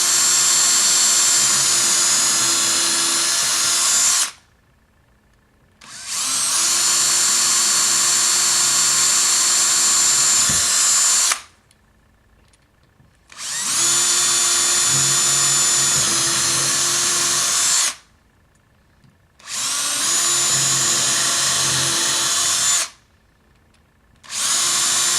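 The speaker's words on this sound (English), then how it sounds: "you're just going to again follow through with your drill, 1/8 in drill bit size, all 6 of the holes real quick" A power drill with a 1/8 inch bit bores six holes while mounting a lock on a horizontal surface, running in long loud sustained whines broken by short silent pauses between holes.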